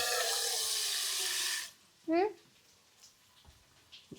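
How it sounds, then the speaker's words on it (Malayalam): Hot water pours into salted puttu rice flour in a home kitchen, a steady loud splashing stream that stops abruptly, followed by a short clink and faint scattered handling noises. "പുട്ടിൽ ഉപ്പിട്ടു ലേശം ചൂടുവെള്ളം ഒഴിച്ച് നനയ്ക്കാം"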